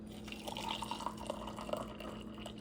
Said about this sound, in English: And then I'm gonna pour my hot water over it